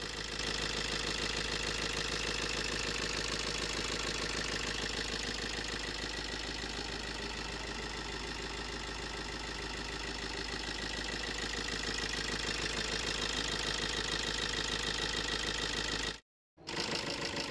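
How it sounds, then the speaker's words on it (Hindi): A Chevrolet Sail's engine idles after running for over two hours, a steady, even mechanical hum with a fine rhythmic ticking that continues unchanged at a close, moderate level, then cuts out briefly near the end. "2 घंटा प्लस हो गया है इंजन स्टार्ट करने से"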